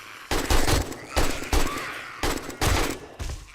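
Gunfire from the 7 Days to Die video game comes in five loud, dense bursts of rapid shots, each separated by short pauses, with no talk over it.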